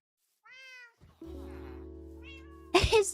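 A cat meows clearly in a short harmonic call, then another brief meow follows over a steady low indoor hum, ending with a louder burst of noise.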